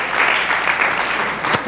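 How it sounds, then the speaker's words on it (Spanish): A church congregation gives a short burst of applause, brisk, dense clapping that ends with a couple of sharp louder claps. "dale un aplauso al Señor por eso"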